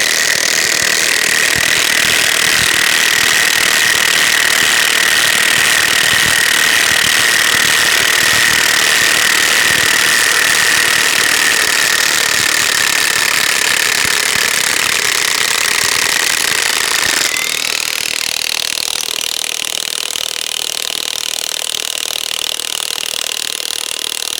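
A high-torque impact wrench driving a 10-inch lag bolt into a log: a loud, continuous rapid hammering rattle that holds for about seventeen seconds, then changes pitch as the load shifts, close and alone.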